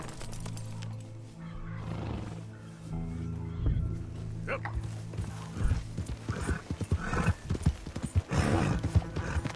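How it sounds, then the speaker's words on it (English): Horse hooves clip-clop along a road in Red Dead Redemption 2, irregular clattering steps that grow louder and busier toward the end over a low rumbling hum, with brief horse snorting and talk in the scene. "Could you please control your horse?"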